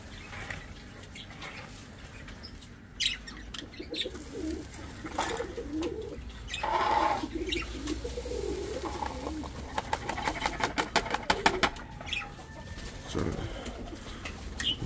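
Pigeons coo in soft, repeated low calls while being fed grain at a loft, joined by scattered wing flaps and pecking clatter, with a few bursts of nearby talk.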